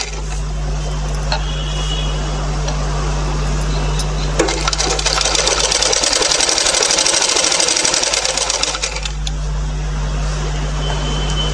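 A sewing machine runs in a fast, steady buzzing burst of a few seconds, stitching a half-inch border folded twice, with a constant low electrical hum beneath before and after.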